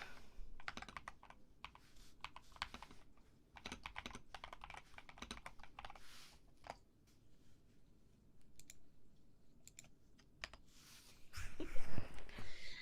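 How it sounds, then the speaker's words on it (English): Computer keyboard keys are typed in quick, irregular runs of soft clicks close to the microphone in a quiet ASMR setting, with no speech. "Guess we're gonna get keyboard trigger."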